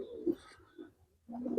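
A large Giribaz pigeon coos close by in short, soft throaty bursts, then a fuller coo starts after a brief pause.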